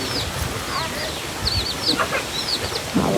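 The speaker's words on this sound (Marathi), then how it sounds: "कोंबडी पण येतच." A hen clucks in brief bursts among other bird calls outdoors during rainy, windy weather, fairly close over a constant background hiss, with some voices faintly present.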